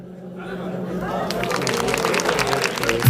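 Applause from a concert audience in the UAE swells in about halfway through, following a voice speaking, and builds into steady loud clapping mixed with crowd chatter.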